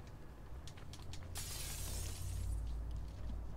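Glass shatters in Batman: Arkham City, a sudden bright crash that scatters into a short, hissing spray of fragments over a low, steady game rumble, fairly faint overall.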